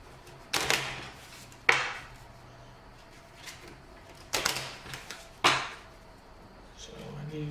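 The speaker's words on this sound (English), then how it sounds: "I'm going to shuffle my deck again." A deck of playing cards shuffled during a card game, with a few sharp riffling bursts separated by pauses, close and fairly clear with no talking.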